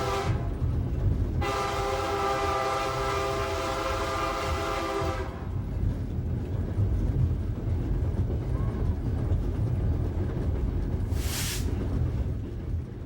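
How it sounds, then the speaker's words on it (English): A BNSF locomotive in Ozark country blows its air horns for grade crossings, sounding one long, loud multi-tone chord over the continuous rumble of the moving train, with a short burst following later. "the engineer blows the air horns for the many grade crossings in downtown Rollin"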